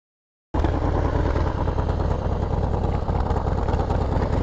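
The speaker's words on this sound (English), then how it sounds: "we got a big exhaust leak" A Harley-Davidson Dyna motorcycle with a big exhaust leak idles close by, starting suddenly and holding a loud, steady, rough chugging rumble with clattery ticking throughout.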